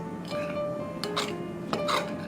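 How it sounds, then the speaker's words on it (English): A spoon lightly stirs flour into batter in a bowl, making soft scraping and a few faint clinks against the dish, quiet and close with no talking. "So mix it lightly by a spoon or whatever it is."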